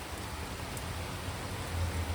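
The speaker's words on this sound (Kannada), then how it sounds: "ಇದೇ ಫಸ್ಟ್ ಜನ ಕಣ ಈ ತರ ದೀಪಾವಳಿಯಲ್ಲಿ ಮಳೆ ಬರ್ತಿರೋದು" Steady rain pours down in the Chikkamagaluru district during Deepavali, a dense, even hiss of drops close by with no voices, over a low background rumble.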